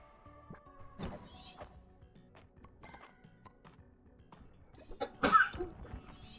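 A single sharp sneeze bursts out late in a quiet room, preceded by faint scattered clicks and light handling noises.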